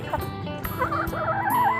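Four chickens clucking steadily while they feed in a sunny yard, several close overlapping clucks and calls with no talk.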